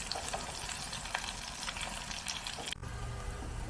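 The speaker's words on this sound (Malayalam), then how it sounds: "ഇനി തിരിച്ചിട്ട് മറുവശം നമുക്ക് മൂപ്പിച്ചെടുക്കും" Anchovy pieces fry in oil and get turned over, giving a dense, close crackling sizzle throughout with a brief scrape as they are flipped.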